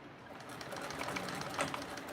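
A sewing machine back stitching on a TrailBlazer set to a stitch length of 4, running steadily and fairly quietly for a couple of seconds with a slight rise near the end.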